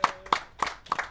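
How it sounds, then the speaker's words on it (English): Four separate, fairly close handclaps in a slow, even rhythm, as though an audience member is starting to applaud at a live radio broadcast, with no voices heard. "Round of applause, ladies and gentlemen."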